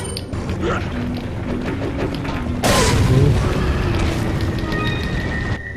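A sudden heavy grenade blast bursts out midway through ongoing Resident Evil 4 game noise, leaving a rumbling, crackling aftermath that fades over a few seconds.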